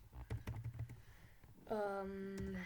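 Quick keystrokes on a computer keyboard while typing a header in Microsoft Word 2013, a brief run of close, soft clicks followed by a sustained voiced tone.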